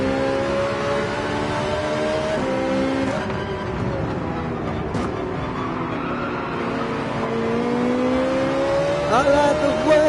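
A Porsche race car engine in Gran Turismo 7, played in VR with traction control off. A steady, loud engine drone holds high and rises and falls slightly as it shifts, with a brief tyre squeal near the end.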